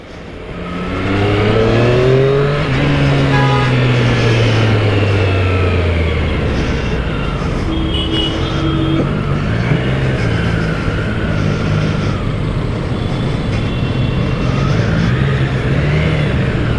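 Heavy Triumph motorcycles ride fast past in dense traffic, engines revving loudly with a rising then falling pitch as the first bike sweeps by, followed by a steady roar of further engines and traffic noise.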